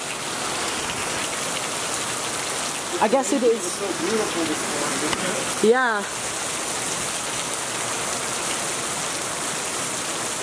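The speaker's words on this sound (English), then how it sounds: "The rain has slowed down a teensy bit." Steady, heavy rain falls close by, a constant hiss of drops on surfaces. Two brief bursts of people talking come through over the rain.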